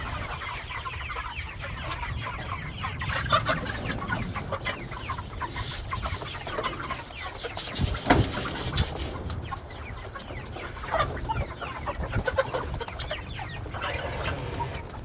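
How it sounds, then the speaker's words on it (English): Broiler chickens in a chicken tractor cluck and chatter continuously at close range, a busy layer of soft bird calls with occasional louder squawks. "The broilers have been doing pretty good out here in the chicken tractor"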